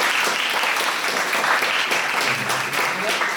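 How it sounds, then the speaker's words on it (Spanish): Audience applause at a podcast event, a steady dense wash of clapping filling the whole stretch at even loudness, with faint voices murmuring underneath. "solo quería que les dieran un aplauso"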